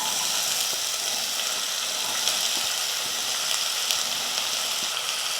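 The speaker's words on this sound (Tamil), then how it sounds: "பெரிய வெங்காயம் 1 எடுத்து பொடியாக நறுக்கிக்கிட்டு அதையும் சேர்த்துக்கிறேன்." Finely chopped large onion sautés in hot oil with whole spices such as cinnamon and cloves for a chicken gravy, giving a close, continuous sizzle with faint crackles and no talking.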